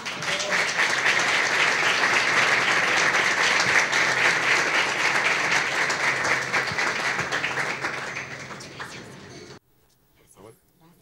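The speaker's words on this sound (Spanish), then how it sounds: "Quisiera que por favor recibamos con un fuerte aplauso a Stephanie Spin." An audience at a panel event claps for about nine seconds, a dense sustained applause that fades out and then stops abruptly.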